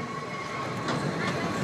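A metro or commuter train rolls along its rails with a dense, steady rumble and hiss, loud and continuous throughout with no clear speech.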